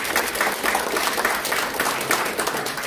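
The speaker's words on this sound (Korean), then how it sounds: "다시 한번 큰 박수 부탁드립니다" Steady, full applause from an audience at a political association's founding ceremony in the Korea Press Center, a continuous wash of many hands clapping with no break and no talk.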